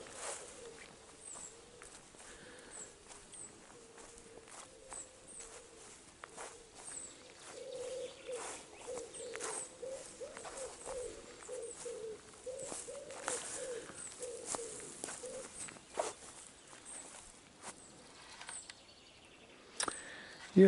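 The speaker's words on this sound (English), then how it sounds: "Pigeons are noisy chaps, aren't they?" Pigeons coo softly in a garden in the evening, a low repeated cooing in a run of pulses, faint and at a distance, with light footsteps and small rustles around it.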